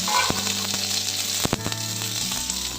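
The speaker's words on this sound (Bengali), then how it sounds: "তেলটা একটু গরম করে নিয়ে কয়েকটা গোটা জিরের দানা একটু আদা দিয়ে দিলাম আর একটা টমেটো ছোট করে কেটে নিয়েছি টমেটোটা দিয়ে দিলাম" Chopped tomato, whole cumin seeds and ginger fry in hot oil in a pan with a loud, steady sizzle and occasional sharp stirring clicks.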